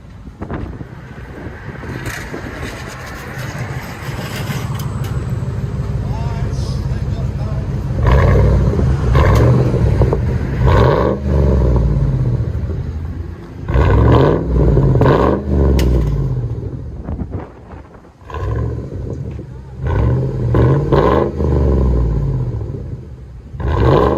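A loud engine of an old Oklahoma State Trooper police SUV with straight-piped exhaust rumbles and revs repeatedly, deep and throaty, swelling and dropping over the idle, while voices speak briefly nearby.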